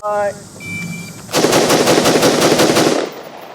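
An IWI X95 Micro rifle fires a rapid string of close, loud shots during a shooting drill, about ten cracks in quick even rhythm lasting under two seconds, followed by a brief fall to quiet.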